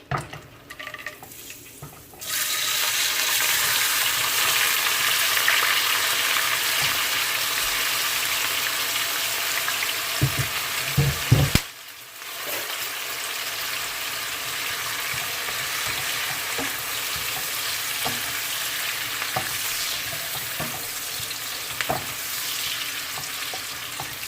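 Onion, pepper and pimento seed go into a hot pan for escovitch saltfish and break into a loud, close sizzle. A brief clatter of pan or utensils interrupts midway before the frying roar resumes and carries on steadily.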